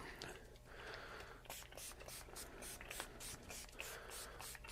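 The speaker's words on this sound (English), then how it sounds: "I tend to just spray it right on the guitar" Repeated short hissing bursts of guitar cleaner sprayed onto an Ibanez RG4EX1 electric guitar, close up, over a steady low hum, with faint rustling between sprays.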